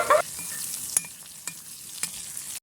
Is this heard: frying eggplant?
yes